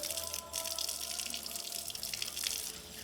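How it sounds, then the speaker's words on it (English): Tap water runs steadily over muddy vegetables being rinsed in a rural Vietnamese kitchen. A close, continuous splashing rush with slight shifts as the produce is moved, and no talk. "I'm going to rinse them once first to remove all the mud and dirt on the outside."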